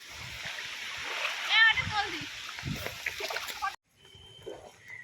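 Water splashes and sloshes as someone wades through a flooded, muddy field during the monsoon rains, close and uneven, while someone talks over it before a brief drop to near silence.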